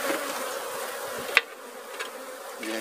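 Apis honey bees from a managed hive colony drone in a steady, close buzz that holds through the whole stretch, with one sharp knock or tap standing out briefly partway through.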